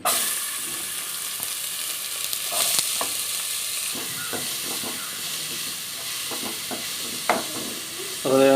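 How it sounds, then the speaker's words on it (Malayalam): Sliced onions hit well-heated oil for a mushroom curry and set off a strong, continuous sizzling hiss, with faint scraping and stirring noises scattered through it. "അതേ എണ്ണ നന്നായിട്ട് ചൂടായി വന്നിട്ടുണ്ട് അതിലേക്ക് നമുക്ക് സബോള ഇടാം"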